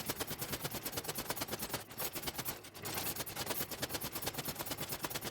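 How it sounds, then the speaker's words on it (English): Rapid, evenly spaced hammer blows ring out on hot steel as the prongs of a garden fork are forged, a fast, steady metallic pounding that barely pauses. "So what I'm doing now is I'm forging out a section of the prongs that's going to be on either side of the fork."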